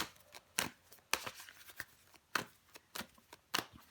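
Tarot cards are handled and laid down on a table, making a handful of soft, quick snaps and shuffling flicks spaced irregularly, close and quiet.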